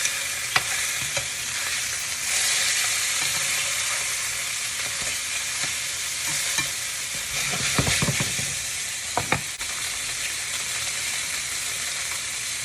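Salmon fillets sizzle steadily in a hot pan just after being flipped, a continuous close frying hiss with occasional soft clinks and scrapes of a utensil against the pan.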